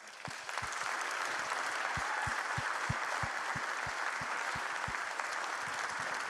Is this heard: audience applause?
yes